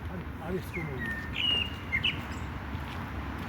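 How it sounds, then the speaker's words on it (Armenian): A songbird warbles in a cold park, with a few brief, faint chirps around the middle over a steady outdoor hush. "Ահա, դե լսեք, այս անուշ դայլայլը։"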